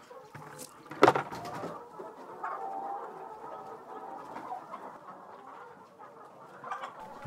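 Chickens on a small farm cluck and murmur softly in short scattered calls, with one brief louder squawk near the start, fairly faint overall and without talk.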